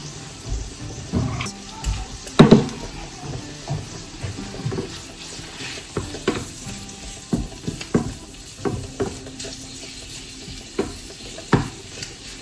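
A salmon head cooking in a pan gives an uneven sizzle broken by clattering bangs and scrapes, with a loud cluster of knocks near the start and more spaced out after. Nobody speaks.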